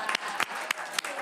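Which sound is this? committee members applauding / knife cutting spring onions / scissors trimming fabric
committee members applauding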